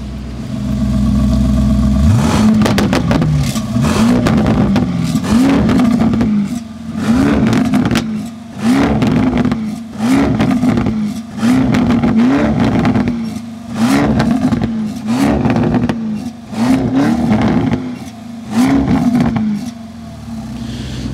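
A Lamborghini Urus with a full Mansory exhaust line roars close and loud, opening with a sustained rev and then about ten evenly spaced throttle blips, each snarling up and dropping back to idle.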